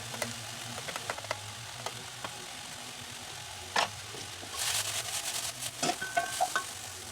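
A spoon scrapes and clinks through a sizzling pan of curry with sweet peppers and cardamom, irregular stirring knocks over a steady frying hiss, with a busier burst of scraping midway.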